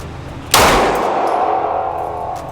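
A single sharp Glock 17 pistol shot cracks out loud and close. Its echo rings and decays over about two seconds.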